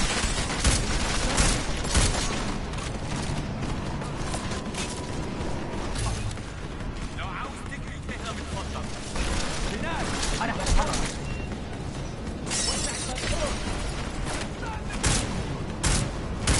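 Gunfire from Deus Ex: Mankind Divided, with dense bursts of shots and impacts crackling throughout amid a busy game soundscape, and a voice talking over the fight.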